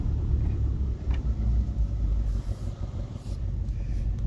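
A Subaru driving a rough forest road gives a steady, loud low rumble of engine and tires, with small bumps and rattles throughout and no talking.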